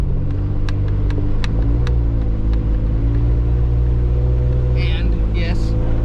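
A pickup truck plowing snow in two-wheel drive gives a loud, steady engine drone with a deep harmonic rumble throughout, while someone talks over it and a few sharp clicks and scrapes break through.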